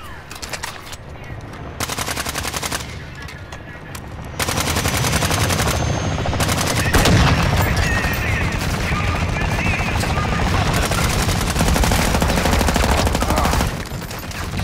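Sustained automatic gunfire in Call of Duty Modern Warfare 2, loud and dense, with rapid bursts that swell and continue through a heavy firefight, with occasional voices faintly underneath.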